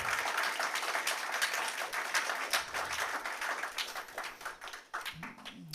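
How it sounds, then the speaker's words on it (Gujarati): Audience applause for four devotees at a community financial literacy event, a steady mass of overlapping claps that thins out toward the end. "એકવાર જોરથી તાળીઓ ચારે ચાર ભક્તો માટે."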